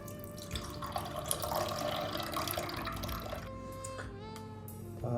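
Water poured into a cooker for making tea, a continuous close splashing and trickling stream with faint clinks of the vessel near the end.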